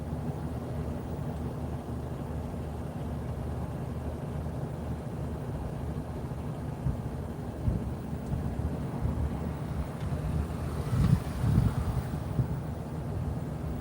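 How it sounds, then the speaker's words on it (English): Outdoor wind rumbles and buffets the microphone as a low, continuous roar with a few stronger gusts toward the end. "I know it's a little bit windy"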